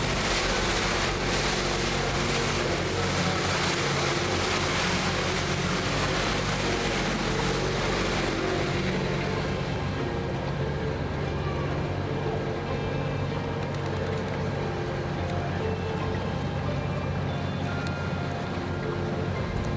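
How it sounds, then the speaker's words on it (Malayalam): A tour boat's engine drones steadily on a Bruges canal as the boat makes a U-turn, a continuous low rumble with washing water, loud and close for the whole stretch, with no voices. "ബോട്ട് യൂ ടേൺ എടുത്ത് നമ്മൾ വന്ന സ്ഥലത്തേക്ക് തന്നെ തിരിച്ചു പോവുകയാണ്"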